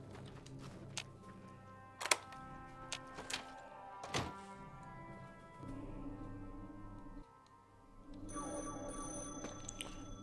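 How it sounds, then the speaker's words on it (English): Telephone ringing in a modded Fallout New Vegas game, a quiet electronic ring tone at the end following scattered thunks and clicks of in-game activity, with no talk over it. "But that is a phone call."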